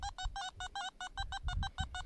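A Nokta Simplex metal detector in a field gives a series of about a dozen short electronic beeps, pulsing in quick, regular rhythm, bright and tonal, with faint low rustling beneath.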